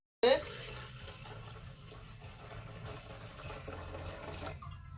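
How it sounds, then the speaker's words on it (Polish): Water is poured into a blender jug for a parsley and lemon drink, 800 grams of it, making a steady, moderately loud running splash for about five seconds after a sharp start. "I dodaję 800 gramów wody."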